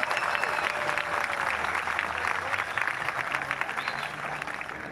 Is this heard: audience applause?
yes